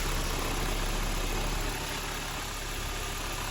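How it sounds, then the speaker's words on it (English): A 2.2-litre inline-five turbo engine idles steadily after a cold start, giving a smooth, even hum at moderate level with no voices, its low rumble easing slightly partway through. "The engine is incredibly silent and smooth."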